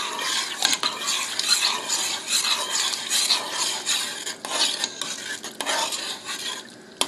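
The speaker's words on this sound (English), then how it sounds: "And of course we're going to stir that in." Black pepper being stirred into asparagus soup in a pot, a continuous close scraping and swishing with faint sizzle, rhythmic strokes throughout and no talking.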